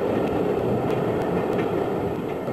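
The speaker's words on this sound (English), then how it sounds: "take a famous banker's train non-stop to Berlin" A passenger train running non-stop from Potsdam into Berlin in the 1970s, heard as a steady, loud rumble and rush of carriages on the rails, unbroken throughout with no voices.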